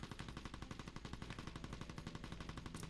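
Rapid machine-gun fire rattles in a steady, loud stream of shots through the whole stretch in the PS2 game Mercenaries 2: World in Flames, with no voices over it.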